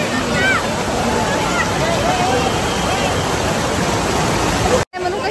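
Devkund waterfall pours with a loud, continuous roar of falling water close by, as voices call faintly over the rush and a brief dropout cuts in near the end.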